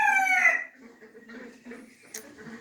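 An adult chicken crows loudly and close at the start, then the crow breaks off into softer, irregular clucks and low grumbling calls.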